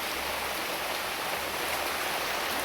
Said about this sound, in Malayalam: മഴ പെയ്താലും കുഴപ്പമില്ല, ഇനി കാറ്റിങ്ങോട്ട് അടിക്കുമ്പോഴാണ് പേടി.